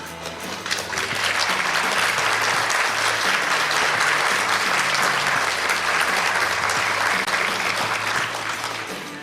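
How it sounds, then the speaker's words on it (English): Loud, sustained audience applause and cheering fill the room during a junior pageant's final walk by the reigning Junior Miss Tullahoma, steady from start to finish with a low musical backing underneath. "if you'd like to give her one more round of applause"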